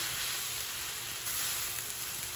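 Vegetable stir-fry with thick Asian noodles and sesame oil sizzles steadily in a hot pan as it is mixed, a close, continuous broadband hiss with faint scraping and no voices.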